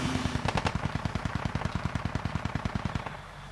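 A technical's mounted machine gun fires a sustained burst of about thirty evenly spaced rounds in a video game battle, loud and rapid, stopping just before the end with no talk over it.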